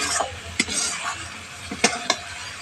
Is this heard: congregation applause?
no